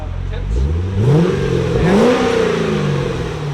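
A 2008 Chevy Corvette with an LS3 V8, 14-inch Magnaflow mufflers and an X pipe revs twice close up, each rev climbing and falling back over a deep steady idle.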